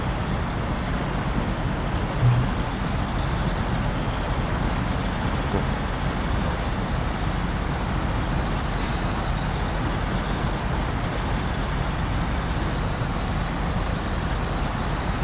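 A heavy truck in the SnowRunner video game grinds in low gear through mud and snow, a steady, dense engine drone with a brief hiss partway through, constant and close throughout.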